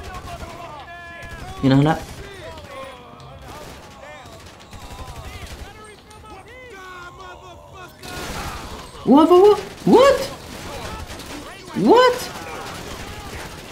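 Gunfire aimed at the player in a shooter game set in a gang war, several loud bursts of rapid shots near the end, with someone talking excitedly in French over it.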